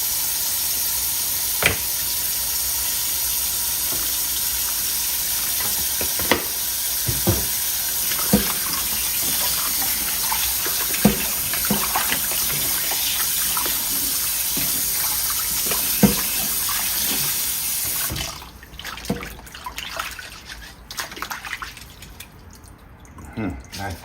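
Tap water runs steadily into a sink while pig feet are washed with lime and vinegar, a continuous hiss with scattered drips and clatters that stops near the end, leaving quieter handling sounds.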